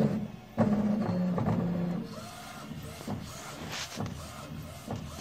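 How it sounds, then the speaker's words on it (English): A UV printer starts its white-ink pass with mechanical shuffling and a whirring carriage, plus a brief electronic tone near the start, moderately close with a low machine hum beneath. "So this is the way the machine start to print white ink first."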